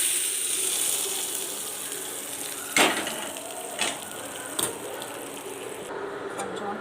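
Mustard seeds, dried chillies and curry leaves from a tempering, poured in with a steady hiss of hot oil frying, plus a few sharp crackles and a brief clatter, moderately loud and continuous.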